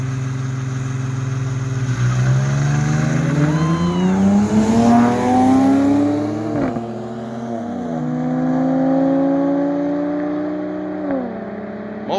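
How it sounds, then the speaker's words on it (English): A car doing burnouts during a night of street racing, engine revving hard and climbing in pitch, then dropping and surging again, with tire squeal layered in, loud and close with no talk. "Oh, he's doing burnouts."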